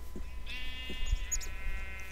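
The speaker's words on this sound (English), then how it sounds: "Look at these, all these sheep." Sheep bleat in a modded ocean survival video game, several drawn-out bleats overlapping one another, clear and moderately loud over a low background hum.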